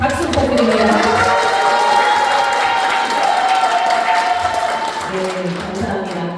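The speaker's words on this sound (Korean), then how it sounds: "박수 부탁드립니다." An audience at a political lecture event in Incheon Seo-gu, featuring a National Assembly member, breaks into loud, sustained applause mixed with cheering and sung-out voices, fading slightly toward the close.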